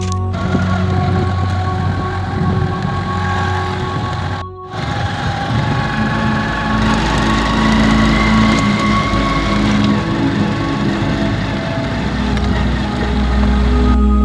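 A motorcycle engine on a village lane hums steadily as the bike rides off, a continuous loud drone with a brief dip about a third of the way through before it carries on.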